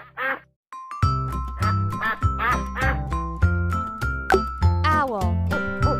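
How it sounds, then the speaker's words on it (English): Cartoon duck quacks in a quick repeated series over a bright, bouncy children's music backing, after a brief gap at the start. "Duck."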